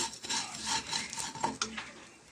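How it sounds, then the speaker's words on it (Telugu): Vermicelli frying in ghee in a pan as it is stirred, giving close, soft scraping and rustling strokes in an uneven rhythm at low volume, with no talk. "సేమియాలు కొంచెం బ్రౌన్ కలర్లో వచ్చేదాకా మనం మంచిగా ఫ్రై చేసుకుందామండి"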